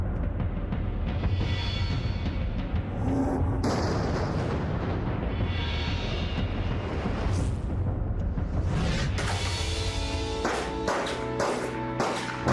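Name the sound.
gunfire in Ace Combat 5 video game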